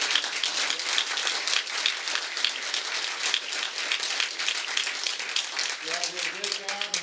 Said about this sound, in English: Let's give a round of applause to the Olympia.